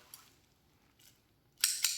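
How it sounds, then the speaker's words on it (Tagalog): Scissors snip wet rope from the sea during farm work, a few faint isolated clicks followed by two sharper, louder cuts close together at the end. "gunting lang."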